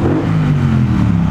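A Triumph Bonneville Bobber motorcycle engine rumbles loudly up close, revving with a deep, throaty growl throughout.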